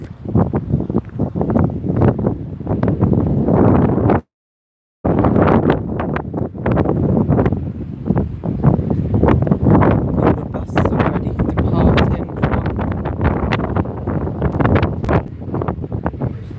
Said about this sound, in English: there's a furious wind now